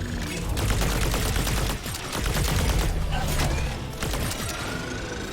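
Rapid, sustained gunfire from a weapon in the roguelite first-person shooter Battle Shapers, dense and loud, with brief pauses between long bursts and a mechanical clatter.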